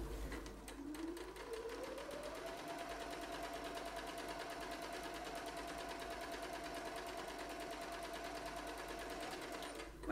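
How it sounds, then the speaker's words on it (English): A sewing machine stitches around the edges of a pocket on a cushion, its motor revving up and then running at a steady fast rhythmic hum, close and alone without talk. "you're going to sew around the three edges of the pocket quite close to the edge"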